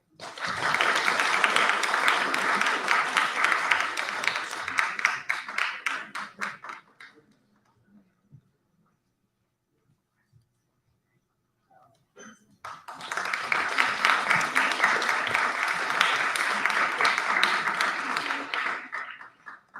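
An audience applauds students presenting an engineering project, in two bursts of dense clapping separated by several seconds of near silence, the second burst as loud and full as the first.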